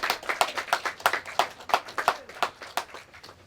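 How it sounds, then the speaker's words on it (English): A small audience claps for a speaker at an outdoor voting-rights press conference, with distinct individual hand claps in a fairly sparse, uneven rhythm, moderately close and with no talking. "Let's give a round of applause for Greg Lewis."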